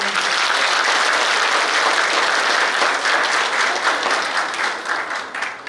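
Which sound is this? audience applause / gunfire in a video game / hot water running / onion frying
audience applause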